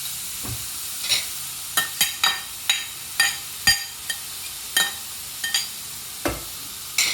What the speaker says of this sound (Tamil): அந்த நெய்யை ஊற்றிட்டு சூடானோடனே நம்ம இந்த ஒரு கப் இந்த 2 ஃபுல் பீட்ரூட்டை போட்டுடலாம்